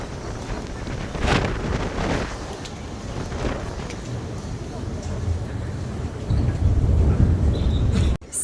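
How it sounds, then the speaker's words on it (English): Strong wind gusts across a seaside pier at Ryde, a steady loud roar of wind buffeting the microphone with surging gusts. "It's very windy."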